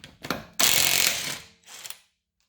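A wrench working a wheel lock bolt off a car wheel: a short burst of ratcheting and metallic clicks, followed by a louder grinding rattle and a fainter clicking run, close by.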